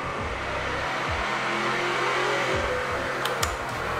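A Ford GT40 replica accelerates hard on a race circuit, its engine roaring loud and close as the revs climb repeatedly through gear changes.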